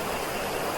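Yarra River flowing in Australia, a steady soft rushing wash of water, continuous and fairly faint, with no voices over it.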